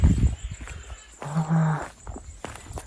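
A water buffalo or cow gives a short low moo in the middle, fairly close, amid faint footsteps and scuffing in a rural setting.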